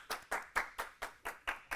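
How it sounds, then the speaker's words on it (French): Rhythmic hand clapping from a studio audience on a French TV game show, a quick, even series of about eight sharp claps, fairly faint and with no voices over it. "On applaudit, on applaudit."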